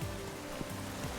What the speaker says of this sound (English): I guess I'm just going to have to live with this area being nothing but rain